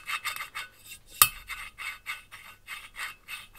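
Rhythmic scraping as an engine exhaust valve is lapped back and forth on its seat in a cylinder head, about a dozen even strokes with one sharp click midway, close and quiet.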